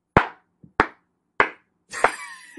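Hand claps in a cartoon home scene: three sharp, separate claps at an even pace, then a fourth mixed into a brief voice, all close and loud against silence.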